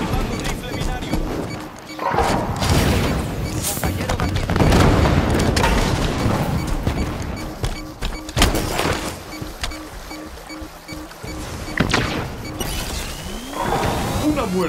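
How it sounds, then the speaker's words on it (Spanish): Scatter shotgun fire in a fast video game match, heavy booming blasts and bursts of gunfire repeating throughout amid loud explosions, mechanical clatter and game effects, with a voice speaking in places. "Tengo la escopeta de dispersión."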